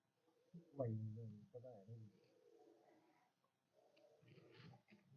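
Soft, low pigeon coos sound up close, a few throaty burbling calls rising and fading, with quiet pauses between them.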